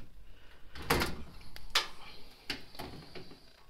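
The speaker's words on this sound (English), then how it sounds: "Not meant to be able to open more than one drawer at a time" An office or storage cabinet drawer that seems to be faulty is pulled open and pushed shut, giving several sharp wooden clunks and scrapes spread over a few quiet seconds.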